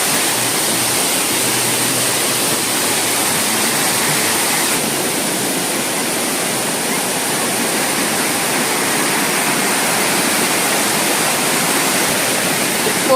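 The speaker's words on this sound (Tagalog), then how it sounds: "so ang laki ng falls. Ang haba pala nito." Large waterfall, a constant, loud, full roar of falling water heard close by, steady throughout with no voices.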